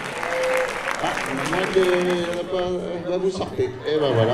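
Audience applause at a film premiere in Nîmes, a crowd clapping steadily throughout while someone speaks over it and people chatter nearby.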